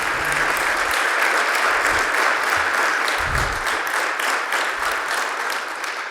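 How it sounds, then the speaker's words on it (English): Loud, sustained applause from an audience at a veterans luncheon, dense clapping holding steady throughout and easing slightly at the very end. "I think he deserves a round of applause"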